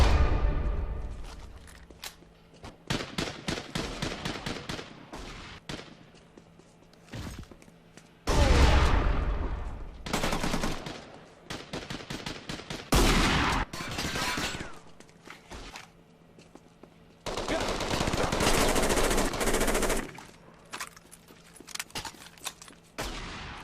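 Rapid gunfire bursts from the shooter video game Rekoil, loud and close, alternating with quieter gaps and sharp single shots, with no talking.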